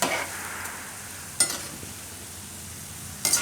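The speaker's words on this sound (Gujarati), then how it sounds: "તો આને આપણે આટલા નાખ્યા છે એક ફેરામાં તો ધીમે ગેસે આને પકાવી લેવું આપણે" Mixed dal vada fry in oil on a low gas flame, giving a soft continuous sizzle with a few brief louder bursts of crackle, and no one speaks.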